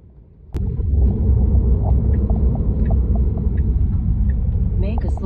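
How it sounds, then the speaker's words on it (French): Deep thunder rumbles during a storm with heavy rain, a long, rolling growl that starts suddenly and carries on low and heavy for several seconds. "Il y a du tonnerre, ça grogne."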